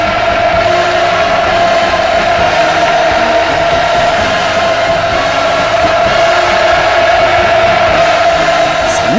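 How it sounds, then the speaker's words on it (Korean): A huge crowd roars and cheers continuously at a North Korean military parade, a dense, sustained wall of voices heard at a distance, steady in loudness throughout with no pauses. "환호성 터졌습니다"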